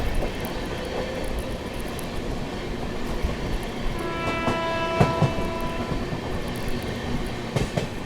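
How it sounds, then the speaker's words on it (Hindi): Bareilly–Bhuj Ala Hazrat Express passing at full speed, a steady loud rumble of rail wagons with rhythmic wheel clatter and whining tones swelling midway. "आला हज़रत भी आ चुकी है पीछे से फुल रफ्तार में आती हुई"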